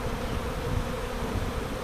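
A swarm of honey bees crowding into a wooden box, a dense, steady, close buzzing drone that fills the whole moment without a break.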